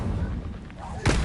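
Incendio fire spell cast in Hogwarts Legacy, a rumbling low whoosh that ends in a sudden loud fiery burst near the end.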